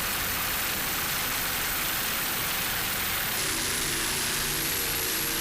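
Offshore racing powerboat number 16, the Black Pearl, running down the beach stretch at the 2006 Edison Oil Fort Myers race: a steady, loud, broadband engine roar with a pitch that shifts partway through as it passes, no talk.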